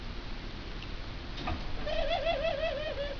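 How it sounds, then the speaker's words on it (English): A mourning dove coos nearby, a soft rising note followed by a few wavering, hollow hoots in a slow sequence, clear against quiet outdoor background. "there just came in another morning dove."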